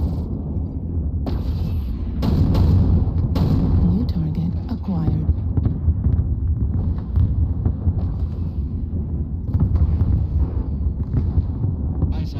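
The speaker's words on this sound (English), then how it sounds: "Artillery strike online." An artillery strike lands in MechWarrior Online: heavy, booming blasts and a dense, rumbling roar fill the whole stretch, loud and close, with gusty, crackling bursts.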